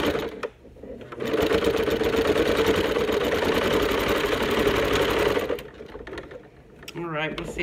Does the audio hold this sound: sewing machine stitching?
yes